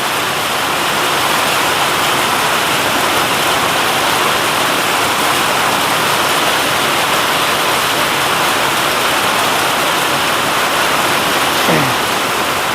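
Heavy rain at the Khandala viewpoint near Mumbai, a dense, steady roar of downpour that stays loud and unbroken throughout with no voices.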